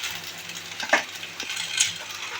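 Vegetables fry in a pan for a fish sour dish, a steady close sizzle with a couple of brief stirring scrapes, no voices.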